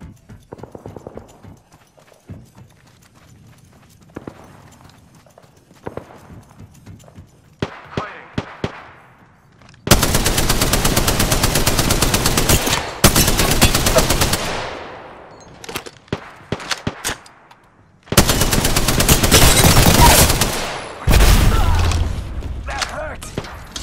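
Spitfire light machine gun firing in the Apex Legends video game: long, loud, sustained bursts of rapid automatic fire, several runs separated by short pauses, after quieter scattered clicks and thumps.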